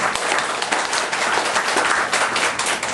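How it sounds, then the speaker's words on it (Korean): A church audience claps to welcome a speaker, with brisk, close, continuous applause throughout the short stretch. "뜨거운 박수로 모시도록 하겠습니다"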